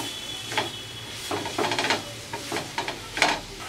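Grated carrots fry in ghee while a spoon or spatula stirs them, with a steady soft sizzle under a series of scraping, clattering stirring strokes against the pan, close and moderately loud.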